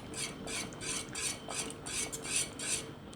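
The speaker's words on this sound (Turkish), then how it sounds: "Ve karıştırmaya devam ediyoruz." A spoon stirs vanilla sugar into thickening milk for a Turkish chicken-breast milk dessert in a pot, giving rhythmic scraping strokes against the pan, close and steady with no talk.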